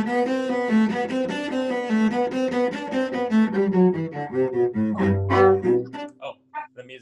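Cello playing a sustained G followed by a run of triplets, bowed notes clear and close with a rich harmonic tone, the line moving faster toward the end before a quiet tail.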